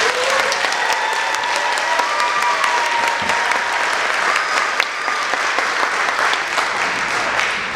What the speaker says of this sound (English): So please give them a round of applause again.